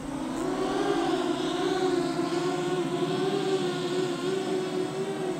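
The motors of a heavy Shendrones Thicc drone, weighing about 4,300 grams, whine with a steady tonal hum as it comes in to land. The drone holds close and loud with little change in pitch, and no talk is heard.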